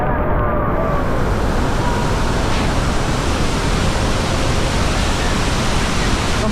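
Iguazu Falls in Argentina roaring as a loud, dense, unbroken wash of falling water close by, steady for several seconds with no clear voices.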